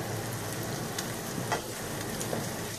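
Sausage fried rice is stir-fried in a pan, giving a steady, close sizzle with light scraping and stirring clicks throughout and no speech.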